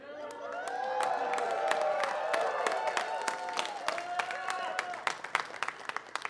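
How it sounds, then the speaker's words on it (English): A studio audience breaks into applause on cue, with clapping swelling to a steady roar alongside cheers and high whoops. It then thins into scattered individual claps and shouts. "And thank you for applauding when Salsa holds up the applause sign."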